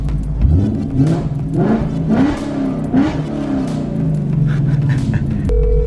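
Ford Mustang with a 5.0 engine revs several times in quick bursts, each rise and fall loud and close, ending with a brief electronic tone.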